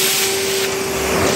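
A vacuum cleaner running steadily up close, a loud continuous whooshing roar with a fixed motor whine, unbroken and alone.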